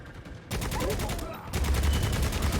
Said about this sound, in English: You just spam your machine gun, and everything dies.